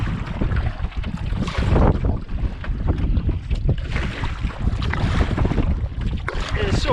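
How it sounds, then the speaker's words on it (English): Strong wind gusts across a lake during walleye fishing from a small boat, roaring loudly and unevenly into the microphone with water sloshing beneath, continuous and close throughout. "So frustrating, this wind, and where is it coming from?"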